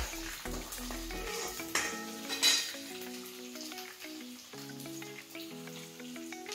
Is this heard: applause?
no